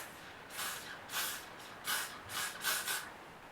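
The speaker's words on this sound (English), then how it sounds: "Then I'm going to go in with my Got To Be spray." Got To Be freeze blast hair spray sprayed in a series of short hissing bursts, about five or six quick sprays close by, quiet overall with no talking.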